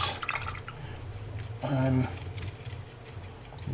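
Paintbrush swished and rinsed in a pot of water while painting a miniature, a short burst of splashing and dripping liquid in the middle, heard close amid faint background noise and a brief voice.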